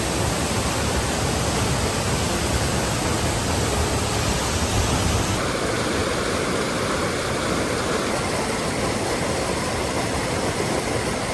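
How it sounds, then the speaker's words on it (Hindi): The Rapid Waterfall in Utror Valley, Pakistan, roars as a dense, steady broadband rush of falling water, loud and close. The tone shifts slightly partway through, and no voices are heard. "फाइनली हम लोग पहुँच चुके हैं रैपिड वाटरफॉल।"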